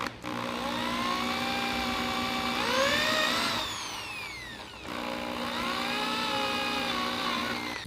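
A wood router whines at high pitch as it cuts a hole through wood, its tone rising and falling with load, briefly dropping off before surging again, loud and close.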